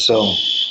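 A fire alarm sounds as a steady, high-pitched electronic tone that holds without a break, while a person talks over it nearby.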